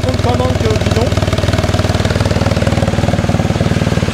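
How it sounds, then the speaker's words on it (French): Motorcycle engine starting and running with its exhaust valve closed, a loud, close, rapid rhythmic thumping idle with a low pulsing throb and steady mechanical clatter throughout. "On commence en mode normal. Alors quand on va démarrer, la valve sera fermée"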